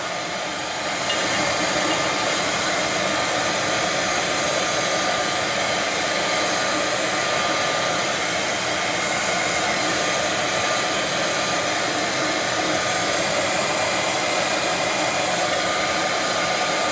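A heat gun or hot-air blower warms an engine case for a 460 build, giving a constant loud rushing hiss that holds steady for the whole stretch with no voices.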